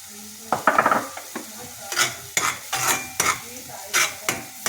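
Paneer pieces are stirred into a frying masala curry, a spatula scraping the pan in repeated strokes over a steady sizzle, close and clear with no talk.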